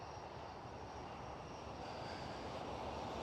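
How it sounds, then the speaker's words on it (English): A KLM Airbus A321neo at Schiphol gives a steady, fairly quiet broadband engine rumble and hiss that holds evenly throughout, with no voices. "Right here we are looking at a KLM A321 Neo"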